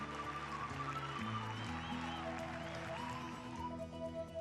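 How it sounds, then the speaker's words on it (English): Steady, dense applause from a golf gallery greeting a player arriving at the 18th green of the 1998 U.S. Women's Open, a soft continuous patter of many hands with broadcast music playing underneath. "Thunderous applause welcomed the remarkable 20-year-old Jenny Shasiraporn to the 18th green."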